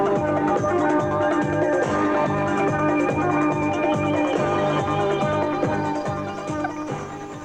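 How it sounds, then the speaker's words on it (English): A radio news jingle plays on its own, a full, continuous musical sting with a steady pulse that holds loud for several seconds before easing slightly at the end. "that was the news jingle."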